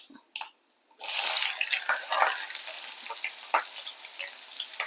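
Chopped onions dropped into hot oil in a pan, already holding popped mustard seeds and chana dal, give a sudden close sizzle that keeps crackling with small pops, alone without talk.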